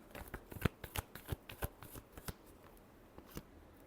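Tarot cards being shuffled by hand in a series of quick riffles and snaps, irregularly spaced and close up, thinning out toward the end, with no talking.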